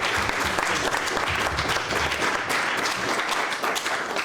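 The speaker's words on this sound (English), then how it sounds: "Yeah, give a clap to that." Audience applause at a Title IX event, steady dense clapping from a crowd sustained throughout, fairly loud and close.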